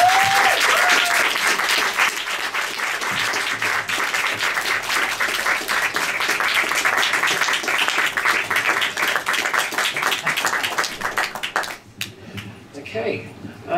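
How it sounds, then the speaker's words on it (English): An audience at a cinema Q&A applauds a writer and director coming to the stage, with dense, steady clapping sustained for about twelve seconds before quickly dying away. "Will you please give a huge round of applause as we welcome to the stage?"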